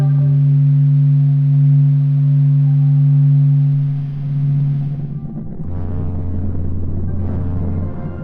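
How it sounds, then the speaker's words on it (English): Sonified planet sound: a steady, deep, pulsating hum with layered tonal overtones that drops to a lower drone partway through, smooth and unbroken like a meditative synth tone. "soak up that constant, pulsating humming."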